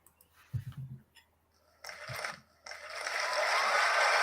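Applause-like crowd clapping from a sound-effect button on a live stream, rising from about 1.8 s, breaking briefly, then swelling into a loud, sustained dense wash; short mechanical clicks and a thud come before it.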